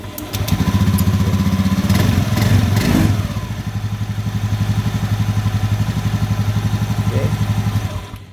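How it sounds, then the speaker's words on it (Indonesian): A motorcycle with an ACG starter cranks briefly and catches, then settles into a steady, close, throbbing idle with a dip in the rev partway through. "kita nyalakan ya untuk memastikan kalau starternya ini sudah bisa atau lebih lancar ya"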